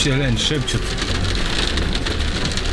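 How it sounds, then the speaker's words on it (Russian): A heavy summer downpour roars loud and constant, dense drumming rain with a low rumble beneath, and a brief whisper near the start. "Ливень ливанул."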